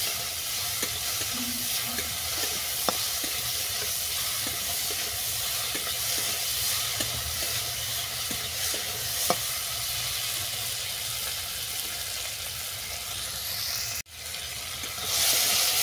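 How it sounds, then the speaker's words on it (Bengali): Fish seasoned with salt and turmeric frying lightly in a pan, a continuous close sizzle and hiss with occasional soft clicks of stirring, ending in a brief sharp knock. "মাছটাকে হালকা করে ভেজে নিচ্ছি।"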